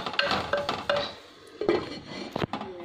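A lid is set onto a cooking pot of fenugreek-leaf and sesame chutney with several light metallic clinks and clatters, close and irregular, with faint sizzling underneath.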